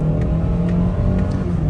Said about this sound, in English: I will accelerate a little harder just to show you how it sounds and how it goes up to speed getting on the freeway